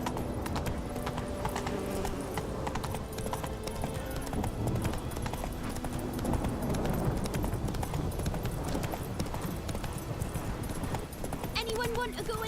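A horse gallops in The Witcher 3 video game, rapid rhythmic hoofbeats running continuously under game music and ambience, with a voice speaking over it.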